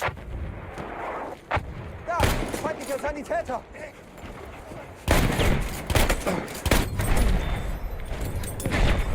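Bursts of gunfire from a weapon in a video game, loud rapid volleys and booming shots in two main clusters, with someone talking over and between them.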